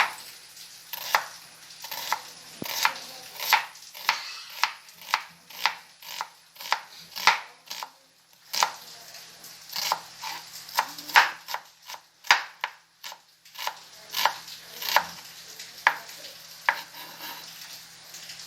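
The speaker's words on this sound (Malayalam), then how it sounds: "ഇനി നമുക്ക് സവാള കട്ട് ചെയ്യാം" An onion finely chopped with a knife on a board: a long series of crisp, fairly regular knife strikes with brief pauses, close and moderately loud.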